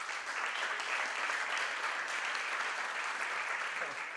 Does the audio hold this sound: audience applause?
yes